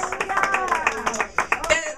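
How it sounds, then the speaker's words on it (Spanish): Congregation clapping during a Spanish-language church service, a ragged stream of hand claps mixed with voices singing and speaking over them, fairly close and steady for a couple of seconds. "Dale un aplauso al Rey de Reyes."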